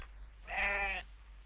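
A goat lets out one bleat, a loud, wavering cry of about half a second, close by and alone.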